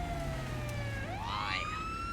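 A police siren in the GTA roleplay video game wails steadily, its pitch sweeping down then rising again in a continuous, fairly loud tone with no talking over it.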